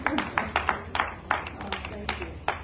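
Scattered clapping from a small conference audience at the Kilali Tribe annual gathering: a loose run of separate, fairly close handclaps spread unevenly across a few seconds, never swelling into full applause.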